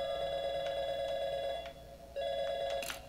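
A telephone in the Portal 2 video game rings with a bright electronic trill, two bursts separated by a short pause, clear and steady with no voices over it.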